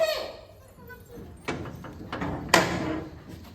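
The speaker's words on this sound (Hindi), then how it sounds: "एते खटखटा रहल कथी छी" Knocking on a house door in a Maithili comedy sketch: a few sharp raps and thuds, the loudest near the end, heard between short bits of nearby speech.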